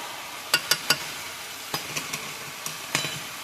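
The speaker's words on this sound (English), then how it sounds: "You want to stir that through really good because you don't want no raw flour" A spoon stirs flour into gravy in a pan, giving a few sharp, scattered scraping clicks over a faint, quiet background, with no voices.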